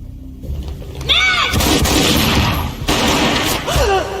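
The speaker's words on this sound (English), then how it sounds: "A gunshot boomed and she fell down in slow motion." Gunfire in the video game Max Payne 1: loud, booming gunshots with heavy blasts and a dense crackling tail, set against an intense, busy game soundscape.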